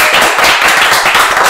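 A man claps his own hands at close range in quick, loud, fairly even claps with no voices over them.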